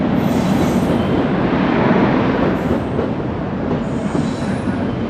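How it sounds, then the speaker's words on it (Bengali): The Uttarbanga Express rolls into a station with a loud, steady rumble of wheels and cars, a faint squeal riding over the roar. "আর এই উত্তরবঙ্গ এক্সপ্রেস ঢুকছে"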